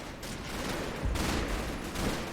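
Firefight in Combat Mission, heavy machine gun teams and rifles crackling in overlapping bursts around buildings, a brief steady rattle of gunfire with no talk.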